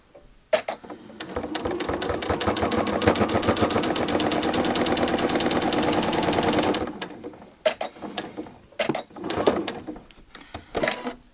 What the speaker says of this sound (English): sew off at a 45-degree angle to this corner